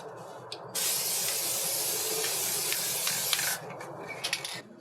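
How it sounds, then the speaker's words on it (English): A steady, loud hiss of an aerosol spray can held down for about three seconds, with faint clicks and a softer puff afterward. "you're basically just spraying chemicals"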